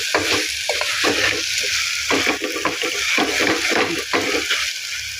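Chopped onions with fresh mint and coriander leaves sauté in oil in a pan for coconut-milk biryani, with a steady close sizzle broken by repeated scraping stirs of a spoon against the pan.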